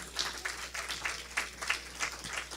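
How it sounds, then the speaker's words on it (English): A church congregation claps during a Sunday service, producing a soft, fairly distant wash of applause with gentle rhythmic pulses that carries on steadily, with no talking over it. "Can we celebrate him with a hand clap?"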